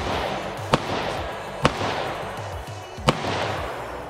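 Three sharp gunshots fired at tipping shooting targets, spaced roughly a second apart, each a loud crisp crack standing out against steady outdoor background noise.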